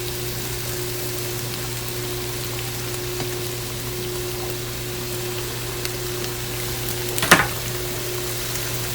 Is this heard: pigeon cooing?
no